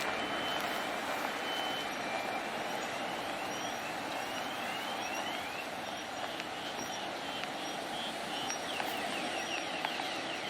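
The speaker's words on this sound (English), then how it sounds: "I think that's the bus in distress alarm." A London bus panic alarm beeps repeatedly in a steady pattern during stormy weather, a thin electronic tone heard at a distance over constant wind and street noise.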